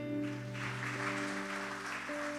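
Congregation applauding at a church service, a steady broad wash of clapping over sustained organ or keyboard tones that hold underneath throughout, fairly quiet overall.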